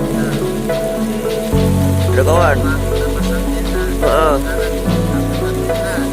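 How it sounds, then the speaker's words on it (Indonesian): Steady rain drums on a Merapi Mountain or Naturhike tent during a storm with strong winds, a dense constant patter under a low droning hum, while people talk briefly inside. "Hujan ya?"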